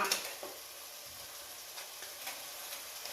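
Fish is laid into a pan of softened tomatoes for a biryani. It fries with a steady, soft sizzle and a faint crackle, and a light knock comes early, with no voices.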